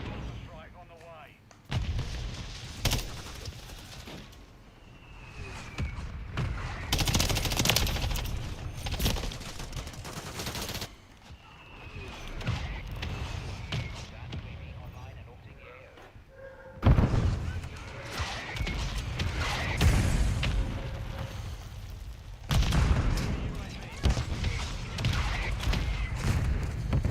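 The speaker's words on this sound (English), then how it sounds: "Friendly mortar strike on the way." Mortar strike explosions and gunfire in the video game Call of Duty Modern Warfare III, repeated heavy booms and rattling shots in waves over about half a minute, with game voice callouts mixed in.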